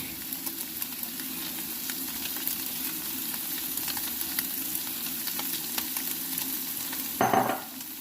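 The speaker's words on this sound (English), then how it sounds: "In we go now with our onions, our mushrooms and our garlic." Crisp bacon sizzles in a pan as onions, mushrooms and garlic go in, a steady close frying hiss with light scraping taps throughout and a short louder clatter near the end.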